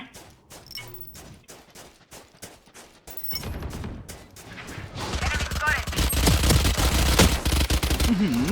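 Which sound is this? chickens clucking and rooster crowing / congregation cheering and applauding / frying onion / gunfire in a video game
gunfire in a video game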